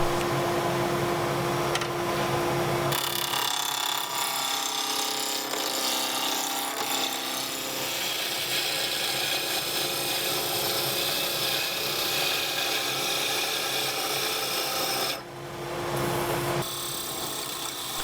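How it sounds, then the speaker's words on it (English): A walnut blank spinning on a wood lathe while a tool cuts it round, giving a continuous loud rasping, scraping drone with brief changes in tone as the cut shifts. "As with any wood turning, the first thing to do is get the blank round."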